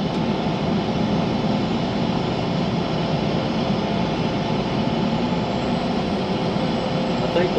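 Locomotive engines rumble past on a double-track line near Cabbage Hill, a steady heavy low drone with broadband roar holding constant throughout, heard from inside a vehicle.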